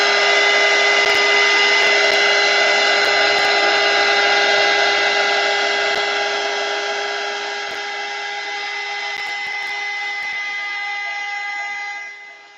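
A heat tool blows hot air across a chunky craft book in a constant, loud whine and whoosh that holds steady, softens slightly midway, then cuts off at the end, with no voices.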